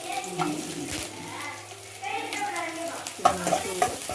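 Chopped garlic and onion fry in oil in a pan, a steady soft sizzle with stirring scrapes and clinks running throughout at close range.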